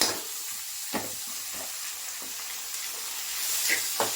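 Washed beetroot fries in a hot pan with a soft, steady sizzle, and a few faint stirring scrapes sound at intervals against the low hiss.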